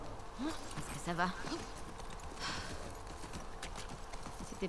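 A horse's hooves clip-clop steadily at a walking pace in The Last of Us Part II, heard at moderate distance over ambient game noise, with a few faint tonal squeaks near the start.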